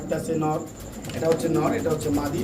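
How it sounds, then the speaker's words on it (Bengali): A Pomeranian pouter pigeon coos with deep, rolling throaty calls close by, heard under a voice speaking over it. "একটা কবুতর যখন ডাকবে তখনই কিন্তু বলটা ফুলবে"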